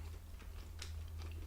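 Quiet, close chewing of a soft Colombian sweet milk jelly snack, a few faint moist bites over a low steady hum, with no talking.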